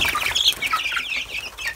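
A flock of hungry young cross-breed chickens, newly moved out of a brooder, cheep and cluck busily at close range in a steady, overlapping chatter.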